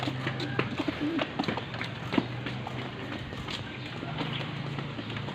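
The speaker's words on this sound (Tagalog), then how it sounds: "saka ito kalapati" Pigeons coo softly and repeatedly at close range by a riverbank, amid light tapping and shuffling noises, with voices faintly in the background.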